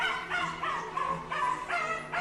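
A dog on an apartment ledge whimpers and yips in short, high, strained bursts, repeating in an uneven rhythm throughout, fairly close and moderately loud with no talking.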